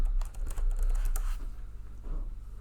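Quick keystrokes tapped on a computer keyboard, a short patter of light clicks over a steady low hum, with the typing fading out near the end.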